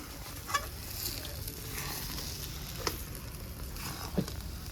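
Mashed elephant foot yam frying in oil with black cumin and garlic, stirred in a pan. A steady sizzle runs throughout, with a few light scrapes of the spoon.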